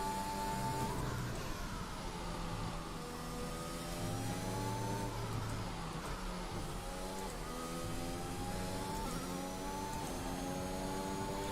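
Open-wheel racing car engines in the F1 2021 video game at the Austria Grand Prix whine steadily for the whole stretch, their pitch rising and falling in layered harmonics as the cars shift and accelerate.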